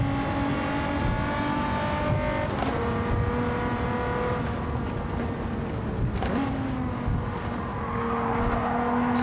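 A Supra and an RX-7 racing side by side, their engines droning loudly and continuously with steady tonal revs that shift through gear changes twice, no talk over the sound.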